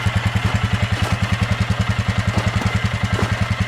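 Polaris Ranger 6x6 side-by-side engine on a high-speed run, a loud, close, rapid pulsing throb with an even, steady beat throughout and no talk.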